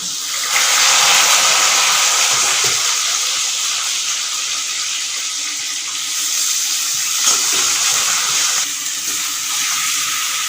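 Steady hiss of potatoes frying in hot oil with nigella seeds, a loud, continuous sizzle with small shifts, likely for a tangy, spicy-sweet potato side dish to go with luchi, roti or paratha.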